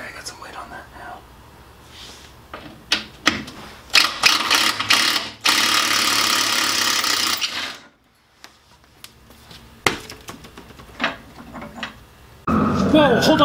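A clamp ratchets and grinds as it is tightened against a skid plate during removal on a Jeep Wrangler YJ. The sound comes in close bursts of mechanical clicking and scraping, with quiet talk and a loud rushing noise near the end.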